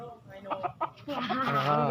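Fighting rooster giving a few short clucks, then a longer, louder clucking call, close by, with someone talking nearby.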